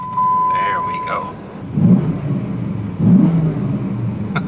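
A Dodge Ram 1500 SRT10 pickup with a V10 engine is started by key and red starter button; a brief electronic chime gives way to a low, deep engine rumble swelling in two surges, with a voice talking over it.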